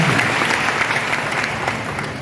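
Loud, dense applause from a large crowd of students at a coaching institute orientation session in Kota, continuous clapping filling the hall throughout.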